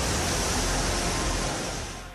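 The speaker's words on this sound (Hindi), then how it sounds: "ज्यादा बारिश के हालात में पहाड़ी से झरना फूट पड़ता है।" A waterfall bursts from a hillside near the Jatashankar Mahadev temple in Chhatarpur after heavy rain, giving a dense, loud, steady rushing roar that fades slightly at the end.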